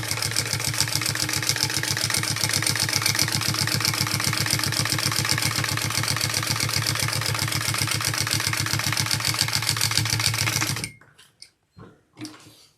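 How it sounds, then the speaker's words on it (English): Sewing machine running a second row of topstitching on a Charyn handbag, a fast steady needle rhythm close up for about eleven seconds before stopping, followed by a few soft handling clicks. "So all you do is you do a second row of top stitching."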